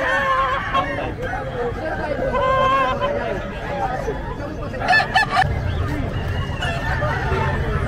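Fighting roosters at the Bocaue pet market crow repeatedly amid clucking and a busy crowd of chatter, several birds calling at once, close and loud under ongoing talk.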